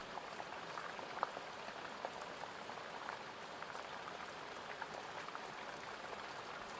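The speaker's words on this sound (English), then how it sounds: "Just listening to the way the rain bounced on the tent." Rain patters on a tent at night as a soft, continuous hiss of droplets. The sound is quiet and even throughout, with no voices.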